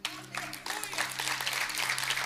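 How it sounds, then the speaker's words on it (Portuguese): Church congregation applauding after being invited to clap for the Lord, a dense steady patter of many hands that starts abruptly and holds at moderate volume, with a low sustained organ or keyboard tone underneath. "Você pode aplaudir o Senhor?"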